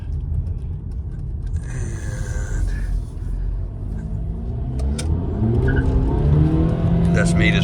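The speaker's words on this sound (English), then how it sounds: "that's me just revving it up manual" A tuned VW 2.0 TDI CKRA turbo diesel with a Rawtech pipe is revved manually while driving, its engine rising steadily into a louder, building drone with some tire and road noise over the last seconds.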